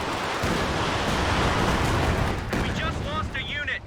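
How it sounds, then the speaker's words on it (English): A Panzerwerfer rocket barrage in Company of Heroes 2 fills the battlefield with dense rumbling, crackling impacts and a washing roar that eases off, while a voice talks near the end. "here comes a Panzerwerfer barrage"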